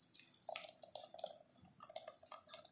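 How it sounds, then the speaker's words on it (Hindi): Blended phalsa sherbet is strained through a sieve into a container, giving quiet, close drips and small liquid splashes with light clinks of utensils in an irregular patter. "अभी इसको हम स्ट्रेन करेंगे।"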